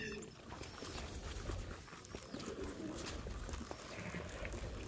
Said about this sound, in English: Those are the blue jays that are making all that noise.